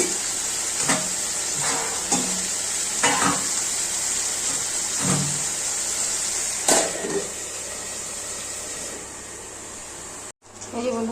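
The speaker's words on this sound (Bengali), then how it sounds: "এটাকে এখন ভাজা ভাজা একটু করবো" Marinated meat for homemade biryani frying in a pan, a steady close sizzle running throughout with occasional stirring clatters, a brief dropout near the end.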